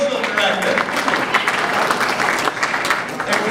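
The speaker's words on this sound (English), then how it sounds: "Another applause for Nina," An audience at a Palm Beach Shores homeowners' association meeting applauding its social director, a short burst of clapping with voices chattering through it.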